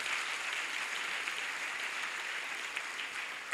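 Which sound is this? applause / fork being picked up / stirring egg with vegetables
applause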